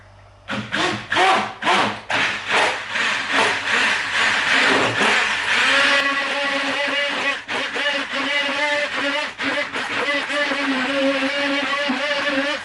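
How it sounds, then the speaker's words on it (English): A hand blender mixing a low-carb Angel Delight dessert whirs in bursts at first, then runs continuously with a steady buzzing drone, its pitch wavering as it churns. "get your hand blender, plug it in, and then obviously blend it"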